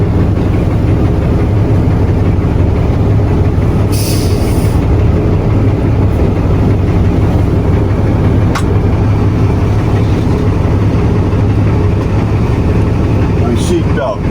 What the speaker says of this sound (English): And now we can start the truck.